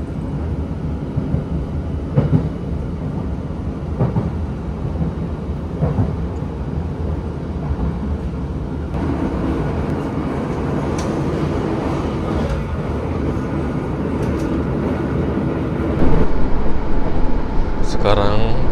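Jaka Tingkir economy-class train running on the rails, a steady low rumble and rolling clatter throughout, with a few brief knocks and louder rattling near the end.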